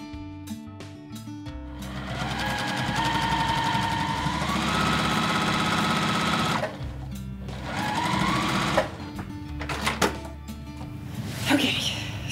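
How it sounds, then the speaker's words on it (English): A sewing machine runs in long bursts as it stitches two big quilt-top pieces together, its rapid mechanical whir close and steady, stopping and starting, with handling clicks between runs and brief talk. "Now I'm going to go ahead and sew my two big pieces together,"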